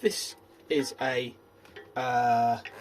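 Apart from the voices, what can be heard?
None of the usual background noises is heard.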